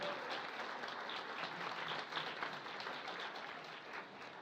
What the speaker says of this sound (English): How about a big round of applause for Newton Falls City Clerk Kathy King?